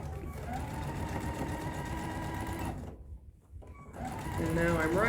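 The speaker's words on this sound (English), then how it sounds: "Now I'm sewing all the way around on my second line." A sewing machine runs steadily, stitching a second line around a drawstring pouch in white thread, then pauses briefly before starting again.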